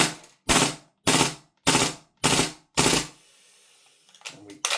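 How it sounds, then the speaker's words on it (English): Rapid bursts from a VORSK VMP1 gas airsoft gun, five sharp evenly spaced rattling volleys close by, followed by a quieter gap and a few weaker trailing shots. "We'll do some bursts, so we just press the selector from the left side to the right side"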